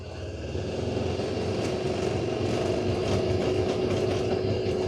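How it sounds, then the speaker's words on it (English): A side-by-side utility vehicle's engine runs steadily at close range on a town sidewalk, a rough continuous motor rumble with a faint whine over it. "We can drive the side-by-side on the sidewalk"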